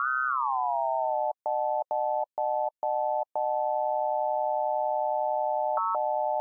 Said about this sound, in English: Now, we're only hearing the effect of oscillator 1 on FMO 1.